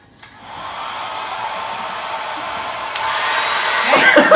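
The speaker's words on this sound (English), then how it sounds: "So take your blow dryer. You speed it along?" A blow dryer whooshing steadily over wet glitter glue at close range, a continuous loud airy roar that swells slightly as it nears.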